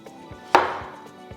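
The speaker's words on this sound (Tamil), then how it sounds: "நீல வாக்கில் நறுக்குங்க." A single sharp chop of a knife through a firm potato onto a board, with a few faint taps around it.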